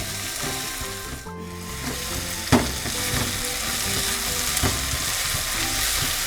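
Ginger garlic paste and onions fry together for a potato and pea-leaf curry, a steady close sizzle throughout, broken by one sharp scrape of a spatula and a few lighter stirring sounds.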